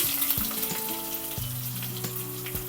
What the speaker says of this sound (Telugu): ఉల్లిపాయలు కూడా వేద్దాము, మంచి స్మెల్ వస్తుంది. అలానే కొంచెం కరివేపాకు కూడా వేసుకుందాము.